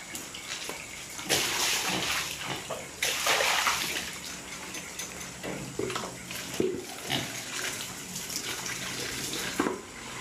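Steady rushing water from a hose sprays and splashes continuously while cleaning out a pig pen, with brief pauses and bursts as the stream shifts, loud and close.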